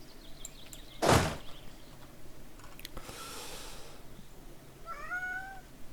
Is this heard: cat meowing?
yes